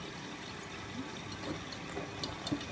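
A Miele W562 Prestige Plus 6 washing machine topping up with water during a rinse, a faint, steady hiss of inflowing water with soft, irregular gurgles and small knocks.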